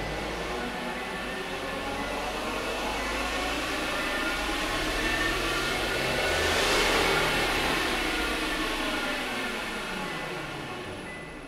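A Chevrolet Tracker 1.2 turbo running on CNG (natural gas) revs hard on a dynamometer, a loud sustained engine roar that climbs steadily toward a peak and then eases off, with no talk over it.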